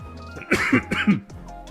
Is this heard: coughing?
yes